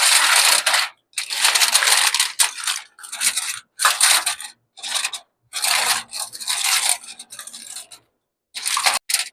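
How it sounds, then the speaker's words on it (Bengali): Crinkly aluminium foil being torn and pressed over a bowl of jackfruit pudding, in close bursts of bright rustling and crumpling separated by short pauses, no talk. "এখন আমি একটা ফয়েল পেপার দিয়ে এটা ঢেকে দিব।"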